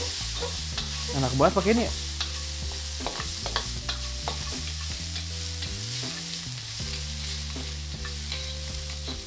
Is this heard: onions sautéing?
yes